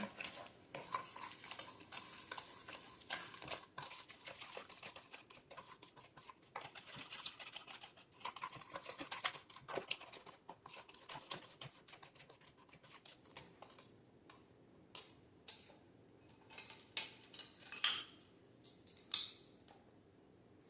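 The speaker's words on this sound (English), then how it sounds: "I'm going to break up the yolk and mix it in" Two large eggs are broken up and mixed into cookie dough for giant chocolate chip cookies, making quiet, irregular clicks and scrapes of a utensil against a bowl that grow sharper and louder toward the end.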